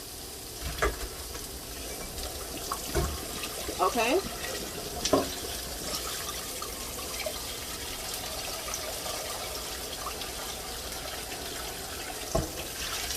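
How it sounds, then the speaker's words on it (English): Cold water running from a kitchen tap over just-cooked food, a steady rushing hiss with a few clatters and a brief word from a voice. "I'm going to run some cold water over it."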